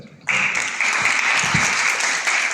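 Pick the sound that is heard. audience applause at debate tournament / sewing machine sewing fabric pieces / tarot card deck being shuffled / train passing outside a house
audience applause at debate tournament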